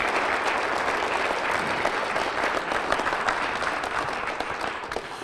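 A conference audience at an opening-night event applauds, a sustained wash of clapping from a large crowd that holds steady and tapers slightly at the end.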